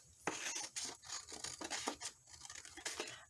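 Scissors snip through a fabric clothes tag in a quiet indoor setting, a series of close, crisp cutting rasps in an uneven rhythm, with no talking.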